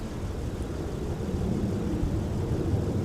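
An airliner takes off from runway 17 at Minneapolis–Saint Paul airport in winter, a steady, distant low rumble of jet engines that holds evenly throughout without other sounds.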